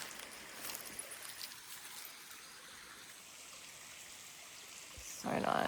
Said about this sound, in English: enjoying the natural stream.